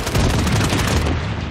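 Heavy gunfire in the mobile shooter Project: Bloodstrike, a dense, continuous roar of overlapping shots and booms that stays loud and close for the whole stretch.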